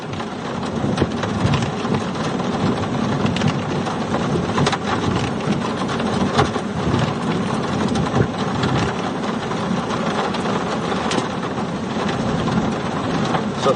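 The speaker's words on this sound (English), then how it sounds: "Ooh, there's hail. Oh, it's getting big. I hear it hitting the silos." Hail pounds metal farm silos during a South Dakota storm, with heavy rain and rumbling thunder forming a continuous, dense roar throughout and no voices.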